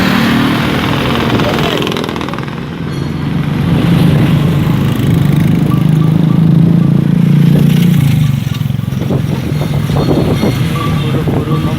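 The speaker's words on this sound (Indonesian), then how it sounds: "Ini teman kita ada yang naik motor ojek." A small motorcycle taxi engine drones and putters nearby along a road in Kudus. Voices talk over the engine throughout.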